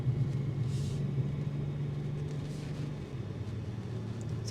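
A 2026 BMW X3 M50 under way on a test drive, its engine giving a steady, low droning rumble that holds evenly throughout with no talking.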